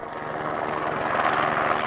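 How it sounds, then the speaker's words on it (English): A rescue helicopter approaches over snowy Swiss mountains, its rotor a steady dense chop that grows slightly louder across the span, with no voices over it. "Finally, a chopper came into view."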